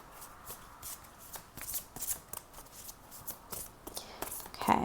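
Tarot cards being shuffled by hand, a series of soft riffling and flicking bursts with small taps between, quiet and close with no talking.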